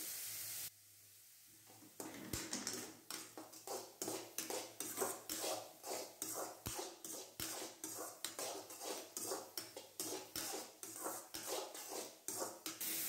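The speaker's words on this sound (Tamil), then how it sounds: "இப்போ தீயை கொஞ்சம் சிம்மில் வச்சு வதக்குவோங்க." Pirandai (adamant creeper) sautéing in a pan over a low flame, giving a steady soft sizzle under repeated rhythmic scrapes and clinks of a spatula stirring against the pan, close and continuous with no talk.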